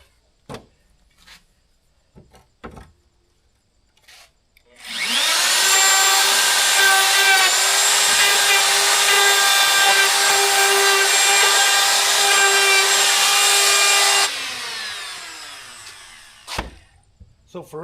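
Power saw cutting leftover rough wooden step boards: a loud, sustained whining cut lasting about ten seconds that spins up sharply and winds down, with scattered knocks and handling sounds before and after.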